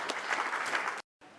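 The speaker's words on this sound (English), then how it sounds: "So he deserves a round of applause." Applause from an audience at a gathering of elders in Aniocha, loud and dense for about a second, then a short silence before quieter clapping resumes.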